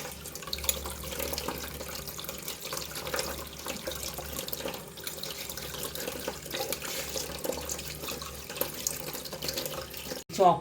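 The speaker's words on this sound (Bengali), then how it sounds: "আমি জলটা ফেলে দেবো আর সাবুটা ছেঁকে নেব। এই অবস্থায় একটুখানি আমি এটা ধুয়েও নেব।" Water runs steadily from a tap as soaked sago is drained and rinsed in a kitchen, a continuous rushing flow for several seconds that ends with a brief clatter.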